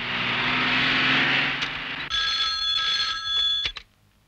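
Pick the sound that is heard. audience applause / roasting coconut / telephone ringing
telephone ringing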